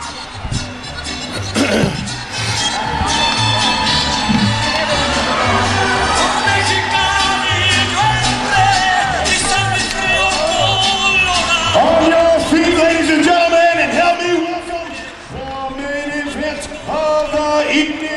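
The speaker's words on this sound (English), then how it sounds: "He's got a hometown crowd cheering him on tonight." Hometown crowd cheering at a Pyramid Fights event in Batesville, Arkansas: a loud, sustained arena roar with whoops and shouts, steady throughout and dipping briefly near the end, with an announcer-like voice mixed in.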